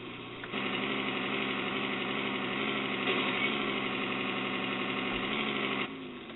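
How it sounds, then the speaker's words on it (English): In a trucking video game, a truck's Jake brake engages with a steady buzzing, rattling engine drone that starts abruptly, holds evenly for several seconds and then drops away to a quieter idle. "Now, we're going to use Jake brake because this corner's too tight."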